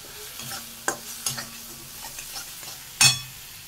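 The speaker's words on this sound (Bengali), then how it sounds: "মশলাটাকে কষিয়ে নিই।" Spices sautéed and stirred in a pan: soft low sizzle broken by several sharp spoon-on-pan knocks and scrapes, the loudest near the end, with no talking.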